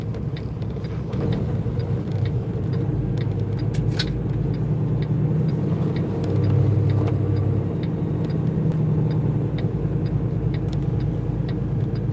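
A truck rolls out of a paper plant in Ohio, its low engine rumble steady and moderately loud over continuous road noise, with no talk.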